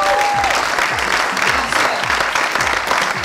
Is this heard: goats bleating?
no